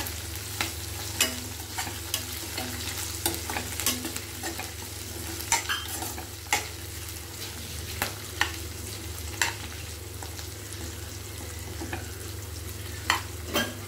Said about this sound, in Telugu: బఠానీ వేసిన తర్వాత ఎక్కువసేపు ఓపెన్ ఉంచద్దు, అవి బఠానీలు పైకి చిటిచిట అంటాయి, తప్ప తప్ప అంటాయి